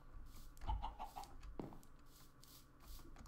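Chickens clucking in Minecraft: a short run of quick clucks, then a single sharper squawk, all fairly faint with no talking.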